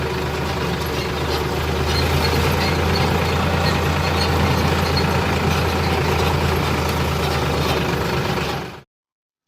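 A farm tractor on a canal-side field road in a chickpea-growing area rumbles loudly and steadily with a deep engine drone, staying close the whole time before cutting off abruptly near the end.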